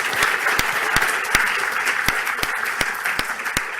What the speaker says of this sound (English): maybe we could just finish off with a round of applause for our speakers